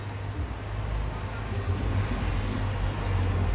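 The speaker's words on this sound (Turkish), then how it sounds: "Çok araba sesi gelebilir bak yine söylüyorum." Car traffic rumbles continuously in the background during a Brawl Stars match, a steady low drone of passing road vehicles at moderate loudness with no distinct events.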